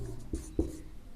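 Pen writing an equation during a Class 10 maths lesson on linear equations in two variables, a few brief scratchy strokes close by, with no talking.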